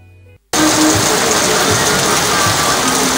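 Heavy rain starts abruptly after a brief quiet moment and then pours steadily and loudly, a dense, continuous hiss of drops on surfaces.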